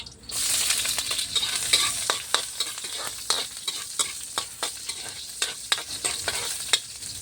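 Sliced ginger frying in hot oil in a wok, a bright continuous sizzle with repeated sharp scrapes and taps of a spatula stirring, close and fairly loud, with no talking.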